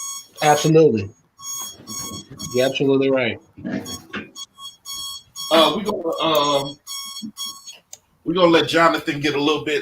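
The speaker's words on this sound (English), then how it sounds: "That's my alarm saying I got to get ready to go to work" An alarm rings in repeated steady electronic bursts, a clear high tonal beeping that runs under and between ongoing conversation between people talking.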